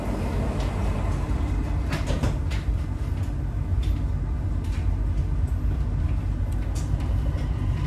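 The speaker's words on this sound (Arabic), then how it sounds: "Doors closing." A Dubai Metro train rumbles steadily from inside the carriage, with a loud, continuous rolling drone and faint clicks as the doors shut and the train pulls away.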